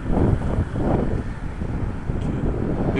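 Wind rushes steadily across the microphone on a street in Bunbury, a constant low rumble with gusty swells throughout.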